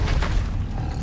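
Depulso spell in Hogwarts Legacy, a heavy low rumbling boom that fills the whole second, loud and close with a dense muffled roar and no talking.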